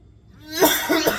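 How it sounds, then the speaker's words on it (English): A single close, harsh cough from someone with a lingering COVID cough, a short raspy burst with a second push at the end. "this cough where I've had the COVID, yeah, I said it, COVID, it just will not go away"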